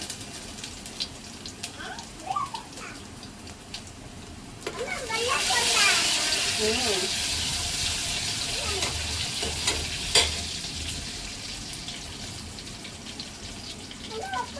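Cumin seeds and finely chopped garlic frying in hot oil for egg 65, a broad sizzle that swells partway through and holds steady, with a spoon stirring and a voice speaking over it.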